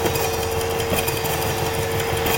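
A table saw runs with a steady mechanical whine and a constant tonal hum, loud and close, with no voices, used to turn a piece of wood round.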